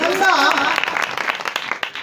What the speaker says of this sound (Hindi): आइए यीशु मसीह के लिए जोरदार ताली बजाएं